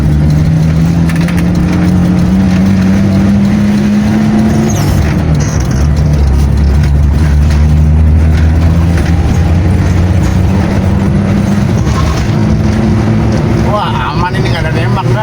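A Toyota Kijang Rover's engine drones steadily at fairly high speed, with rising and falling gear tones under constant road and wind rumble, loud and close from inside the cabin while people talk over it.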